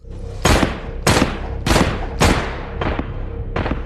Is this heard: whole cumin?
no